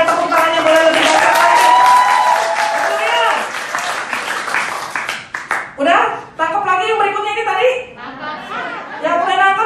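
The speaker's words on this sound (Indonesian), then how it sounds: "Yang percaya tepuk tangannya boleh lebih banyak lagi." A church congregation applauding at a Pentecost service, a burst of clapping and crowd chatter that fades as a voice speaks over the room.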